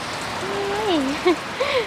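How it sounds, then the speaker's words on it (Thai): Rain falls in a steady, soft hiss for a couple of seconds while a person talks over it. "ฝนตก"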